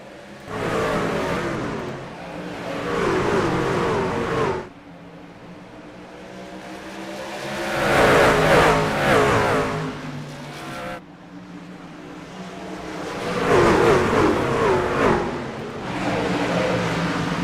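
A pack of racing trucks in the iRacing video game at Bristol roars as they accelerate at the green flag, with engine waves rising and falling loudly as they pass.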